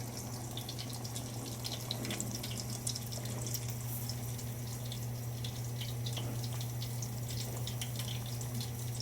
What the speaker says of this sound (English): Here's my sauce simmering.